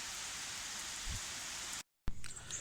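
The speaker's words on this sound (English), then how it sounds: "Sure is raining." Steady rain falls in a garden, a dense even hiss of drops on surfaces that is briefly cut off by a short gap before resuming with a few close splashes.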